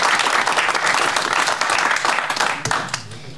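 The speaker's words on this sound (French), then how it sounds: "Je pense qu'on peut encore l'applaudir et puis applaudir tous nos militaires" A hall audience at a town welcome ceremony for new residents applauds the military, a loud dense wash of clapping that holds steady and then thins and fades near the end.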